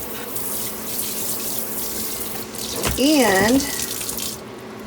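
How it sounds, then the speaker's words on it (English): Water runs steadily from a new faucet into a new sink, a continuous broadband rush that carries through most of the clip, with a brief voiced word near the end. "I am loving my new sink and my new faucet."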